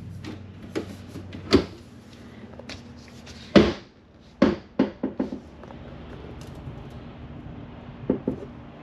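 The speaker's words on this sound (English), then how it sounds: "Now we come to your double door, two drawer freezer and fridge." Freezer and fridge drawers in a 2024 Sierra destination trailer sliding and thudding shut, a series of sharp knocks and clunks in irregular bursts, close by against a quiet room.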